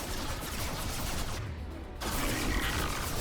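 Enemy gunfire in the video game Mass Effect 2, a dense, continuous barrage of shots that briefly drops away for about half a second before the rattling volley resumes just as loudly.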